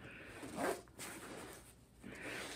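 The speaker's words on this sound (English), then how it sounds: "you very, very carefully do the zipper back up again" The zipper on a travel neck pillow is done up in short, quiet rasping strokes, close and faint, with soft fabric handling between them.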